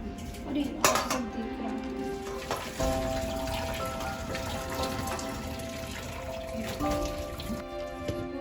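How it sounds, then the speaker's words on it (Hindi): Boiled noodles for street-style veg chowmein tipped into a kitchen strainer and rinsed under cold tap water, a close splashing patter with metallic clinks from the pot and strainer, and faint background tones. "अब इसको स्ट्रेनर में छान लेंगे।"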